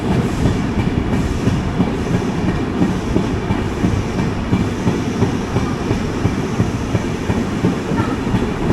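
The 16320 Kochuveli Humsafar Express rolls into Palakkad Junction, heard from inside as a steady loud rumble with rhythmic clickety-clack of wagon wheels over rail joints, continuous throughout and without speech.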